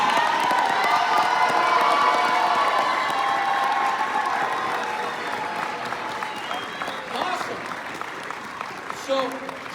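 A crowd of people bursts into loud applause, cheering and whooping. The sound is strongest at the start, then fades to scattered clapping and a few shouts.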